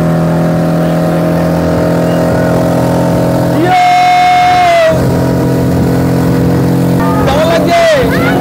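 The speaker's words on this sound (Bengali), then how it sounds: "চলো স্পিড বোটে।" A speedboat engine on Patratu lake runs as a steady, droning hum throughout, with voices nearby and a couple of brief high tonal calls rising over it.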